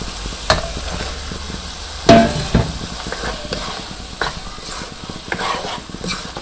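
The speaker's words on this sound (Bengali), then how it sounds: "এখন ডিমগুলো দিয়ে দিই" Eggs go into a pan of frying tomato masala, setting off a steady close sizzle with scraping stirs and a sharp clunk of the spoon against the pan partway through.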